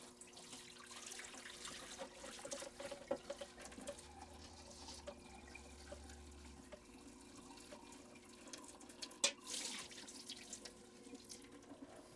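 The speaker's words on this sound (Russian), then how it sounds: "Сливаем соленый раствор." Salt brine poured off paddlefish caviar during salting, a faint, steady trickle of liquid running like a tap into a sink, with small splashes and one brief clatter near the end.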